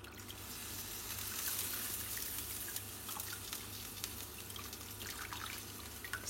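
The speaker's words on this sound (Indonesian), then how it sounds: "Matikan kompornya dan disiram dengan air dingin" Cold water poured over boiled broccoli in a kitchen after the stove is turned off, a steady faint splashing stream with occasional drips, close and continuous.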